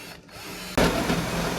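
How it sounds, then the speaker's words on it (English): A power drill bores into the roof of a truck cab, starting as a low whir and then biting in with a sudden loud grinding buzz that holds steady until the end. "This drill bit might be a little long"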